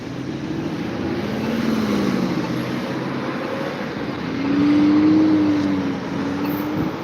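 Cars and other vehicles roll through a signalized intersection at Millwood Road and Laird Drive in Toronto, a steady traffic rumble that swells as one vehicle passes close around the middle, with no talk.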